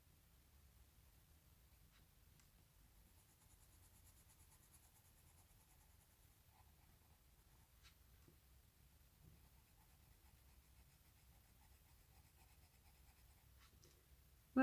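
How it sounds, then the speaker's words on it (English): An Irojiten colored pencil colouring on paper, a faint, steady scratchy scraping at close range with a few soft taps, otherwise quiet. "I'm really happy that I chose this Irojiten pencil"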